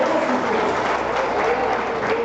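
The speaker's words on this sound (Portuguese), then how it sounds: "Você pode aplaudir o nome de Jesus." A church congregation applauds steadily and loudly, a dense, continuous wash of clapping filling the short moment without a break.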